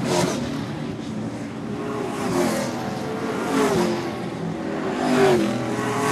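Late model race cars roar around Seekonk Speedway in 2009, a continuous loud engine drone with pitch rising and falling as cars pass close by, no voices over it.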